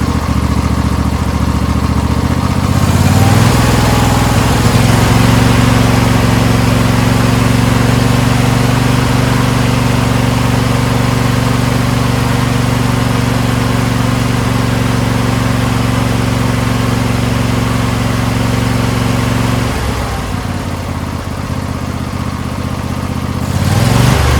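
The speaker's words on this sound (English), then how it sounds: "Idle right there. This engine's in great shape." A Craftsman LT1000 lawn tractor's two-cylinder engine idles steadily and loudly up close, a smooth even drone that holds for about twenty seconds, with a short start and stop at either end.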